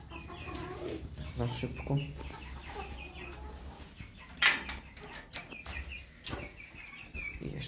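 Hens and chickens in a backyard coop cluck softly and intermittently at close range, with a brief sharp squawk midway, while a person speaks briefly over the afternoon chores.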